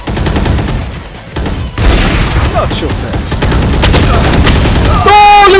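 Gunfire in the VALORANT video game, a dense burst of loud rapid shots that runs through nearly the whole stretch, with a brief lull before it intensifies, then ends in a bright ringing tone.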